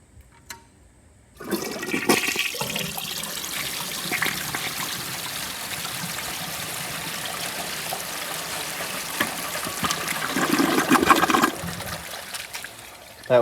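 A 1980 Eljer Emblem toilet is flushed: a sudden loud rush of water, then a long, gurgling siphon that builds toward the end before cutting off into quiet refilling.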